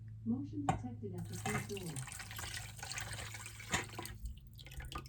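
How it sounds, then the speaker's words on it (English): Warm green tea pours and trickles into a mixture in a container, a soft steady splash with a few drips, close by; a voice speaks briefly at the start. "I'm going to pour my hot green tea, or warm green tea, I guess, into this mixture"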